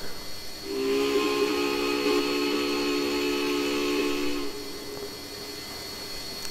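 A steam locomotive whistle in the video game Trainz 2019 blows one long, steady, chord-like tone lasting several seconds over a soft hiss, then cuts off, leaving quieter background noise.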